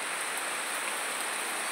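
Heavy rain falls outside as a steady, dense hiss with no breaks and no talk.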